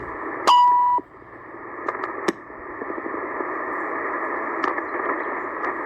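Steady hiss of shortwave radio static in the 12000–13000 kHz band with a strong continuous carrier tone, a brief loud beep near the start and faint clicks scattered throughout.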